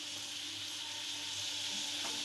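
Garlic and curry leaves sizzle in hot oil for an okra stir-fry, a faint, steady frying hiss with no pauses and no talk.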